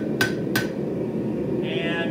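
Two sharp hammer blows on hot steel while forging a hair pin, close and loud over a steady low forge roar, followed by a brief higher ringing tone near the end.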